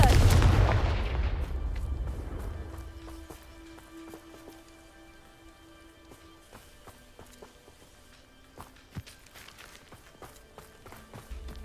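Confringo blasting spell cast in a Harry Potter video game: a loud, booming burst right at the start that decays over a couple of seconds into quiet ambience with faint scattered clicks.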